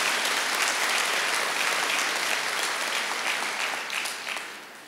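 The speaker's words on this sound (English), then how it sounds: "Everyone, please give our teachers and the staff a round of applause" Families at the West-MEC Southwest Campus recognition ceremony applaud the teachers and staff, a loud, dense burst of clapping from a large crowd that holds steady and tapers off at the end.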